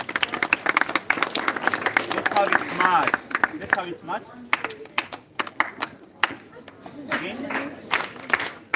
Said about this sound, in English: Can we applaud her?